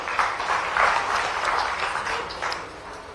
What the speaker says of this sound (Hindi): आप सभी जोरदार तालियों से उनका स्वागत करें।